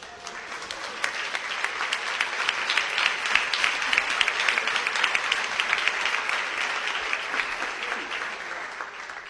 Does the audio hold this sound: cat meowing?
no